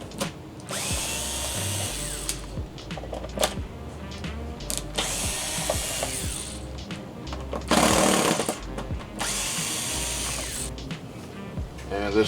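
Number 1 Phillips screws are backed out of the rear cover of a Haier 65UGX3500c 4K LED TV, with a power screwdriver whirring and ratcheting in repeated short bursts, close and fairly loud.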